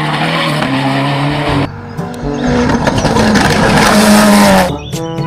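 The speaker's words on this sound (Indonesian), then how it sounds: "Yang ini ada mobil balap." A toy race car plays loud electronic engine revving and tire squealing, with a short dip partway through, then a second burst of screeching skids before it cuts off.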